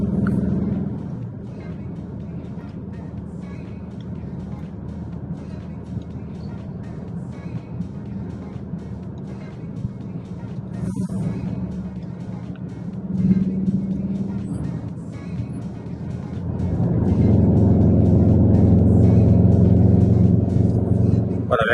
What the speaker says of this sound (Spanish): Vamos a ponerlo en modo Cupra, que aquí sí que se nota el sonido.